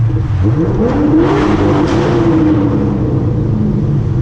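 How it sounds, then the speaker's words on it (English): A Corvette fitted with long tube headers and a Billy Boat exhaust accelerates hard under a bridge, its loud, close engine note rising steadily in pitch and echoing, with no talking. "I just drove under a bridge, and I love giving that acceleration under the bridge"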